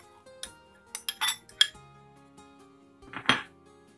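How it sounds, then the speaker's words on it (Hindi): Karonda berries tipped into a bowl for pickle, giving a few sharp clinks and rattles against the dish in short bursts, close and fairly quiet, with a final louder clatter near the end. "सबसे पहले हम एक बाउल में करौंदे डालेंगे"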